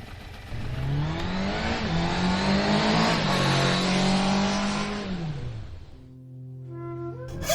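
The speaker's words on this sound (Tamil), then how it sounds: "இந்த நேரத்துல இந்த வண்டி ஒண்ணு ஸ்டார்ட்டே ஆக மாத்து" A vehicle engine revs loud and close, its pitch rising and falling as it accelerates and speeds away, then quickly fades into the distance.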